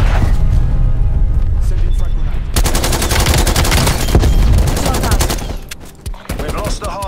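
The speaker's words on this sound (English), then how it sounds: "Netcall, incoming artillery." Loud, dense gunfire and heavy booming artillery impacts fill a Black Ops Cold War Hardpoint match on the Satellite map, with rapid overlapping shots running almost continuously throughout.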